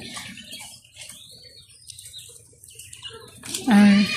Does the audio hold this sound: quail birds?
yes